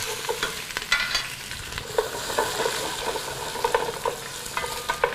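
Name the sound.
crushed spice seeds frying in very hot oil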